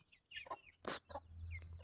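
A rooster and hens cluck close by during a morning feeding, several short throaty clucks and calls in an uneven sequence with a brief sharp rustle between them, over a low steady background hum.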